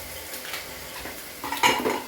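Mutton with Everest mutton masala is stirred in a pot, giving a soft sizzle under scraping spoon strokes, with a louder metallic clatter near the end, close and without voices.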